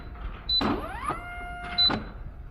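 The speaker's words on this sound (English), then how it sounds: "I think something in the motor's bad. Can you hear the pitch kind of shift up and down?" Electric oil pump motor on a 2018 Kegel FLEX bowling lane machine, with a suspected fault; two short whining runs whose pitch sweeps upward, separated by a steady tone, close and fairly loud.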